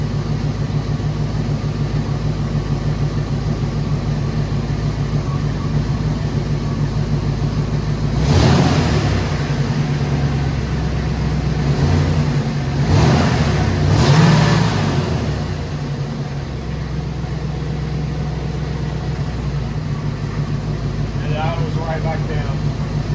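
A 1989 Ford Mustang 5.0 five-speed coupe engine idles steadily, then revs up in two or three bursts before settling back to idle, fairly close and loud.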